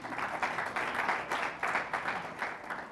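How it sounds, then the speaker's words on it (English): An audience claps hands for Richard, a man who cuts hair, with steady, fairly faint applause from a small group sustained over a few seconds with no talking. "Can you clap hands for Richard?"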